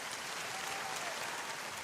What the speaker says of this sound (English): Give Harry some applause.